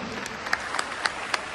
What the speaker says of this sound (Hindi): एक बार उनको जोरदार ताली बजा करके धन्यवाद दो।